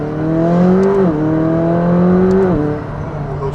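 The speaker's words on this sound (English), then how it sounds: "Those turbos are way louder now." Twin-turbo V8 engine of a 2019 McLaren 570S Spider with the back window down, droning steadily with pitch rising and shifting as it pulls through gears, loud and close from inside the car.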